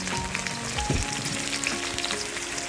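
Bay leaf, cumin and dried red chilli fry in hot oil, a dense, continuous crackling sizzle heard up close with no talking.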